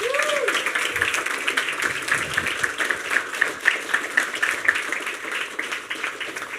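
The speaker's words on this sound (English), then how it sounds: "can we give Amy a round of applause?" An audience at an awards night claps in a sustained round of applause, a dense, fairly even patter of many hands that carries on for several seconds.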